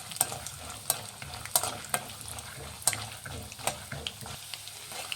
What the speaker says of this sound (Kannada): ಒಂದು ಸ್ವಲ್ಪ ಚೆನ್ನಾಗಿ ಫ್ರೈ ಮಾಡಿ